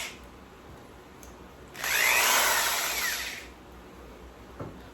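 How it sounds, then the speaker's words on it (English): An old corded drill with a 1/2 inch bit spins up loudly for about two seconds, a high whining motor buzz at close range, then winds down into quiet background. "got all those drilled out with that drill"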